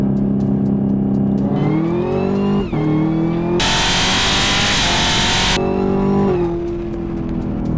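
A 2018 Chevrolet Camaro ZL1 accelerates hard, its engine note climbing through gears with a short drop at each shift and a loud roaring stretch in the middle before settling into a high steady drone.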